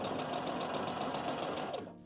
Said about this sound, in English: I'm going to start my stitching from this side and go all around the edge